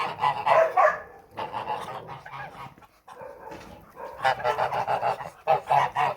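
Kholmogory geese honk loudly and close by in a farmyard, with repeated harsh bursts of calls broken by a brief pause.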